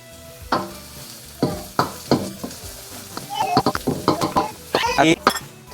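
Garlic sizzles in a hot pan for a beef mami broth, with steady frying hiss broken by sharp clanks and scrapes of stirring, and a voice briefly audible in the mix.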